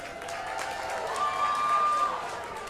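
Applause from a live country music show audience in Nashville, a soft, steady patter of clapping that swells slightly midway, heard alongside a sustained tone.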